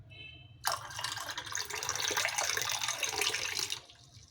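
Chilled water poured into peach juice, a steady splashing stream that starts abruptly, runs for about three seconds, then stops, over a low background hum.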